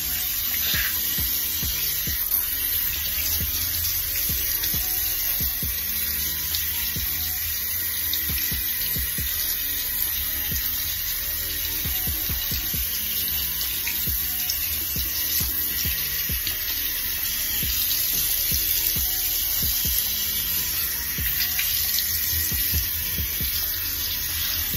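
A tap runs steadily while makeup brushes are rinsed under the stream, giving a continuous hissing splash with small shifts as the brushes move through the water.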